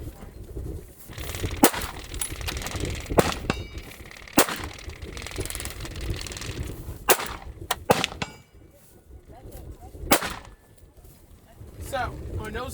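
Handgun fire during firearms training at an outdoor shooting range, with several sharp, loud shots spaced irregularly over wind noise and a low rumble, and voices talking between them.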